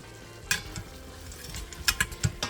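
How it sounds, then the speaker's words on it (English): A spoon stirs diced onion with taco seasoning and garlic salt in a soup pot, giving a few close scraping clacks and a soft sizzle over about two seconds. "let me go ahead and stir that around just a little bit"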